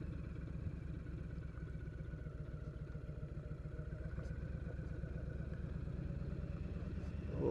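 A big motorcycle rolls along gravel, its steady mid-pitched engine drone carrying a continuous low rumble and faint crunch close to the rider, with no talk.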